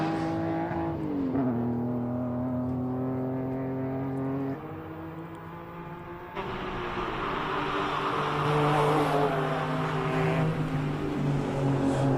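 A classic race car at the Simola HillClimb, its engine droning loudly, then dropping in pitch, then climbing again as it accelerates up the hill, with a harsh rushing roar joining partway through.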